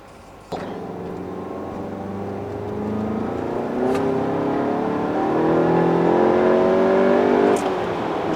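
Volkswagen Golf driving on a road, its engine a steady close drone that begins abruptly and slowly climbs in pitch and loudness as it accelerates, then eases off near the end.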